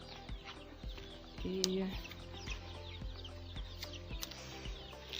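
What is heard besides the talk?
chickens clucking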